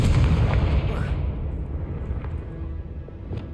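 A Confringo blasting spell detonates in the Hogwarts Legacy video game on PS5, a loud low boom at the start that rumbles and decays over a few seconds, with faint crackles trailing off.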